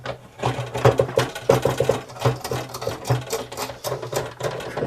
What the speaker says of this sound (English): Inside the guitar, the clamp is moving